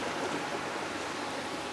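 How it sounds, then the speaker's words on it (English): Fifty tons of seawater draining from a tank down a siphon pipe into a containment facility, a steady broadband rushing wash like a stream, close and continuous with no talk. "literally going down the drain, is 50 tons of seawater down this siphon pipe and then into a special containment facility"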